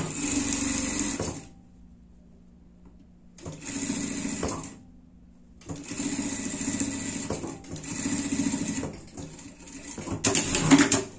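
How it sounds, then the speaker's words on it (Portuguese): A sewing machine stitches a cow-print pet costume in three to four steady bursts of a few seconds each, separated by short quiet pauses, close and fairly loud with no talk. "Aí a gente vai costurar até aqui completinho pra baixo"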